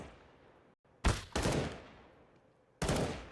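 Pistol shots ring out in a Counter-Strike match on the Ancient map: three sharp, loud cracks, the first two close together and a third after a pause, each with a lingering reverberant tail and no voices.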